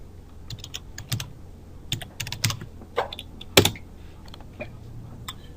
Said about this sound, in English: First thing we want to do is type in the web address of your site.